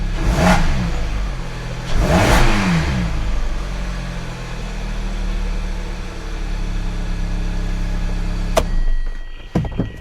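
A Hyundai i45 engine is given two short light-throttle revs that rise and fall, then settles into a steady idle, with a sharp click near the end.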